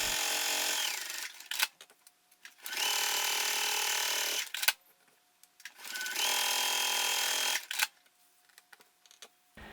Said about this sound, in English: The handle, I'm sewing several seams, as you'll see,